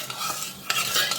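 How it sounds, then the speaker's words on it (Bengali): Cold custard mixture being stirred in a pot with a spoon, giving a short burst of close scraping and swishing strokes with a couple of sharper knocks against the side. "এটা ঠান্ডা নেড়ে চেড়ে রেডি করতে হয়"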